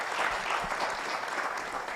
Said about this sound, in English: Asanteni sana, let's clap for them.